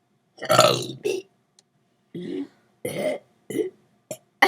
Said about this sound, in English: Like little burps.